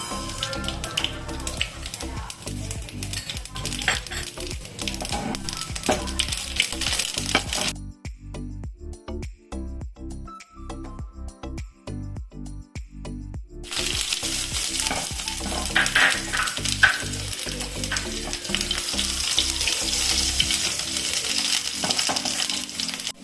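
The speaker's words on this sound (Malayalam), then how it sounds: "വറക്കാൻ കടുക്, ഉള്ളി, ഉലുവ, പച്ചമുളക്, കറിവേപ്പില, ഇത്രയാണ് കടുക് വറക്കാൻ" Mustard seeds, shallots, fenugreek, green chili and curry leaves fry in hot oil for a tempering. Loud sizzling is punctuated by crackling pops and the scrape of stirring, and it drops to a quieter stretch before surging back.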